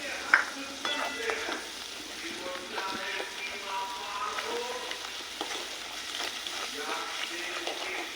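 Poppy seed paste with cashews, salt and sugar frying in a pan, a soft steady sizzle broken by scraping and clicking stirring strokes throughout.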